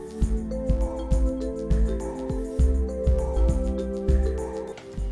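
A Dell XPS 630i desktop's graphics card fan runs loudly without drivers, a steady whirring hum with faint periodic ticks, close and continuous with no talking.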